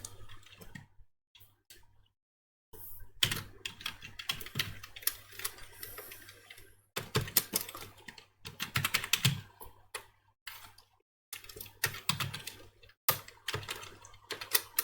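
Bursts of rapid keystrokes on a computer keyboard as code is typed, clattering in uneven runs separated by short silent pauses, close and fairly quiet.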